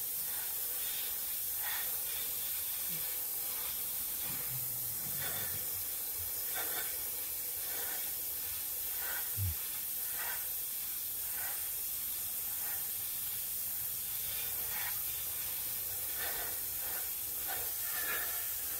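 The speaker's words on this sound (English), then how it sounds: "Like I say, I'm just going to fog it on here." Testors bottle enamel paint fogged onto a scale model auto body, a steady, fairly faint spray hiss that runs throughout with a few small clicks and bumps.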